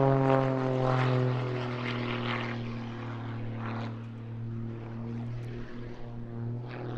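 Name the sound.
aerobatic propeller aircraft engine at an airshow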